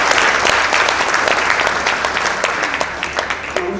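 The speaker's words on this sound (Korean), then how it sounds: "네, 박수 한번 쳐주세요." Church congregation at a New Year thanksgiving service in Incheon applauding as honored members stand, a loud, sustained burst of many hands clapping close by, slowly thinning toward the end.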